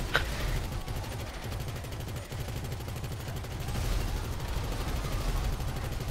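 Miniguns roar in sustained rapid fire in Grand Theft Auto V, a continuous heavy mechanical buzz of shots that swells slightly in the second half and runs without talk.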